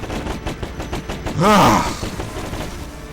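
Gunfire crackles through a Battalion Wars 2 cutscene as a rapid series of sharp shots, with a louder swelling blast and groan near the middle over continuing mechanical clatter.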